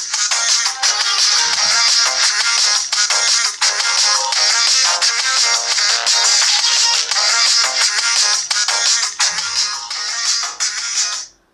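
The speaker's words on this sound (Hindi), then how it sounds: "इस वॉच में आप म्यूजिक भी सुन सकते हैं, तो यहाँ पर मैं उसका भी सैंपल आप लोगों को सुना देता हूँ" Music sample playing from the small built-in speaker of a Hammer Pulse 3.0 budget Bluetooth-calling smartwatch, loud and steady throughout with a bright, thin tone and no talk over it.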